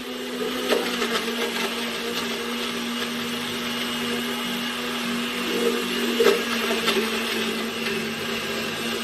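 Blender whirring as it purées pumpkin in coconut milk for dumplings, a steady high motor hum that runs unbroken for several seconds, close and loud, with slight surges in pitch.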